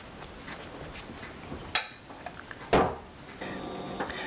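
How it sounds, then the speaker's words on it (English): A pie dish holding a strawberry pie is set down onto a baking sheet, giving two distinct clunks about a second apart over quiet room tone. "I'm placing my pie dish here with my strawberry pie in a baking sheet."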